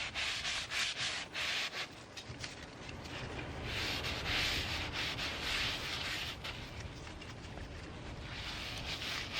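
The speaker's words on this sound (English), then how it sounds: "I'm just gonna scrub it off." A terra-cotta pot gets scrubbed to remove calcium buildup, making continuous close, abrasive rubbing strokes in a steady rhythm with no talking.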